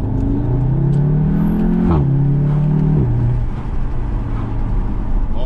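An Audi TTS with a 310 hp engine revs up close and loud, its pitch climbing, dipping briefly and climbing again before settling into a steady hum, with no talking.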